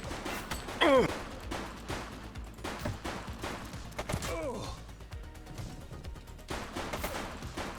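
Gunfire in a police shooter game, with sharp bursts of shots throughout, one loud crack near the start, set against a busy background of game sounds and effects.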